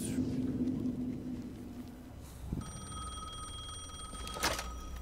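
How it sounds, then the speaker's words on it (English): A telephone rings in the video game Alan Wake II, a bright electronic tone that starts partway through and rings steadily over a quiet, low game ambience. "Answer the phone."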